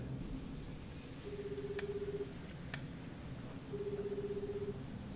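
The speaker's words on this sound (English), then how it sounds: "Is Elle gonna answer the phone?" Telephone rings twice in the Death Note anime, each a steady electronic ring lasting about a second, separated by a pause and heard over low background sound.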